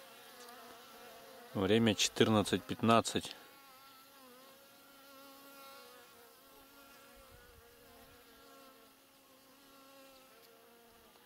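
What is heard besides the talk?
bees buzzing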